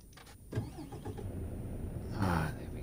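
A truck engine in a truck simulator game cranks and catches, then settles into a low rumbling idle, close and moderately loud with no talking.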